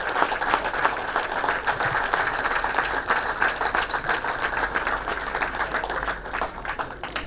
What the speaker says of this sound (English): I appreciate if we give our Chief Minister a standing ovation with